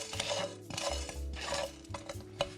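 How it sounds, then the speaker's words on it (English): Whole spices are stirred in a pan while they roast, giving a series of soft scraping and rattling strokes of a spoon against the metal, close and quiet, with no voices. "Stir for 2 to 3 minutes until spices are well roasted."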